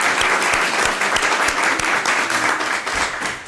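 An audience applauds at the close of a panel discussion session, a full, steady round of clapping from a sizable room that holds throughout and tapers slightly at the end.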